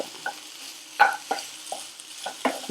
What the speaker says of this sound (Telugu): హై ఫ్లేమ్ మీదే బాగా టోస్ట్ చేసుకోవాలి